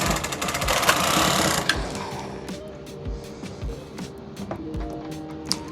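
A Brother KH588 standard-gauge knitting machine carriage knits wool, a loud mechanical whir and clatter as it sweeps across the needle bed, followed by softer clicks and thumps as it settles.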